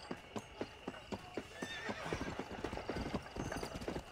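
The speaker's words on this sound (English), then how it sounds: "Come on, you stupid horse." Rapid hoofbeats of a galloping horse in the video game Red Dead Redemption clatter in an uneven rhythm, with a brief whinny partway through, fairly close and clear.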